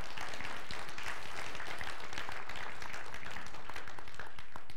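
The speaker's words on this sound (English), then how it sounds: "would you give a round of applause to all of our worship team and our people?" A church congregation applauding its worship team, a steady, dense wash of many hands clapping at moderate volume, continuous throughout with no talk.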